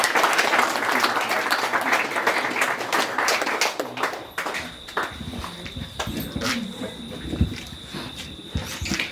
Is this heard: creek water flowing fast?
no